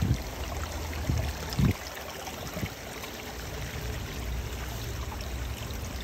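Water pouring in a continuous trickling stream, moderately loud and close, with a few sharper splashes early on and no speech.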